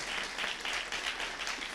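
A church congregation at a Sunday service claps briefly, giving a steady, moderately distant patter of hands that stays even throughout with no break.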